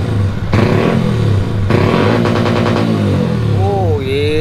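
Yamaha Sniper motorcycle engine running loud and close throughout, a steady idle rising in revs with a couple of throttle blips, while people talk over it.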